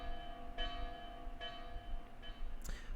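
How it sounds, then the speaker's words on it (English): Alarm bell ringing from a sentry tower in a fantasy video game, three slow, resonant metallic strikes with long ringing tones, followed by a brief sharp higher sound near the end, with no talk over it. "That's the alarm bell from the sentry tower."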